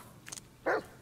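A dog barks in the Blair Witch video game, one short faint yip followed by a single louder, close bark, with no talking over it.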